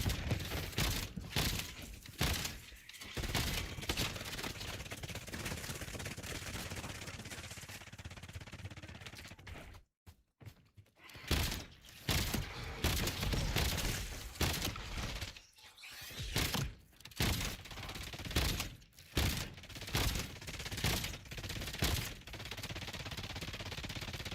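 Bursts of soldiers' gunfire in the Black Ops 7 video game, loud and repeated in rapid volleys with sharp cracks, broken by a brief near-silent gap midway before the shooting resumes.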